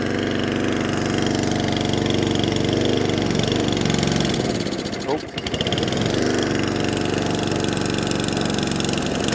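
Atco Balmoral cylinder lawnmower engine running steadily at full throttle on choke, a loud continuous buzzing drone with a brief dip midway and a voice talking over it.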